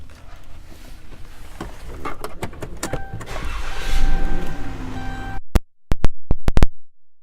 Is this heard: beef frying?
no